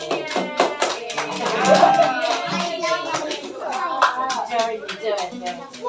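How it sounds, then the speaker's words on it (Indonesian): Classroom applause for a student, a burst of clapping from a group of pupils with children's voices and chatter mixed throughout, fairly close and steady in loudness. "Kasih tepuk tangan dulu buat temennya."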